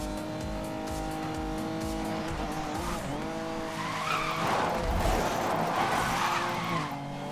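A car drifts with long tire squeals and a droning engine in the video game Need for Speed Most Wanted, a BMW, loud and continuous with the screech swelling midway.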